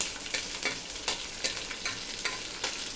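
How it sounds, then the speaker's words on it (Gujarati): Cumin, sesame seeds, curry leaves and chopped green chillies sizzle and crackle in hot oil for a dhokla tempering, with a spoon scraping the pan in steady, repeated strokes close by. "હવે એને સારી રીતે સાતરી લઈએ."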